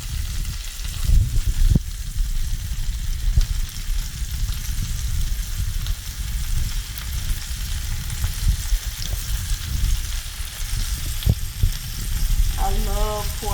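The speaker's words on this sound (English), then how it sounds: "you're ready to go ahead and saute this up" Meat, onions, green peppers and portabella mushrooms sauté for a Philly cheese steak, a loud, continuous close sizzle with occasional spatula scrapes and no talking.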